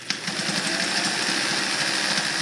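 A Singer 319W sewing machine runs a zigzag stitch with a steady, close mechanical whir and fast rhythmic ticking, continuous and alone for a couple of seconds.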